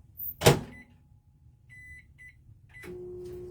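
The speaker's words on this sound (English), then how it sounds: "we're gonna pop the black glitter in the microwave." A microwave oven heating black glitter isomalt: a door thump, a short run of keypad beeps, then the oven starts with a steady low electrical hum, close and fairly quiet, with no voices.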